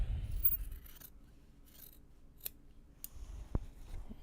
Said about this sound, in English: listen to that squeak every single time I close the scissors.